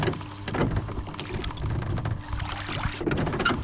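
Rowing a boat while trolling on Lake Shikaribetsu in Hokkaido, with uneven splashes and knocks of oars in water over a wind-buffeted background, close and fairly loud, no voices.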